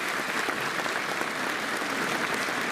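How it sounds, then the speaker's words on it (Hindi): Audience at a university convocation ceremony welcoming the governor with loud, steady applause, a dense wash of many hands clapping continuously throughout. "तालियों की गड़गड़ से इनका स्वागत है।"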